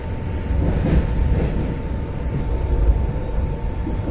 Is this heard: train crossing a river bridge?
yes